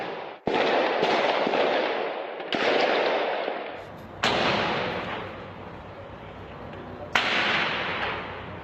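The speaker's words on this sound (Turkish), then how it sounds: "militanlar uzun namlulu silahlarla karşılık verdi" Gunfire from long-barreled weapons during a dawn police raid on a militant cell house: several loud, sharp bursts, each trailing into a sustained, echoing roar, with no voices.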